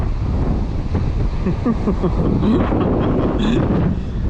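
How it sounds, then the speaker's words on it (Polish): Strong wind buffets the microphone in a constant roar on a beach, with faint voices briefly audible underneath. "Że jest piękna pogoda, gdyby nie ten wiatr."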